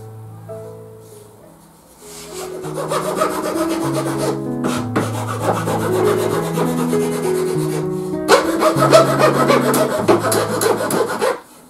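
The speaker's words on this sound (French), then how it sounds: "Ça se ponce très bien" A wooden leg piece for a bench is sanded by hand in long, repeated rasping strokes with short pauses, over a backing of melodic music.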